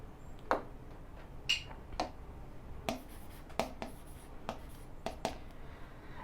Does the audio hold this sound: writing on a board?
yes